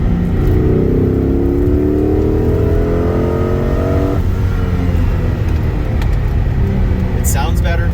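A Lotus LS V8 Renegade engine revs hard and accelerates, its rising tone climbing strongly for a few seconds before dropping into a loud rumble with wind noise and talk over it.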